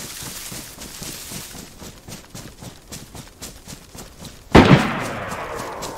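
In the survival game DayZ, a single loud, sharp gunshot cracks out near the end after a stretch of soft, rhythmic ticking and movement noise.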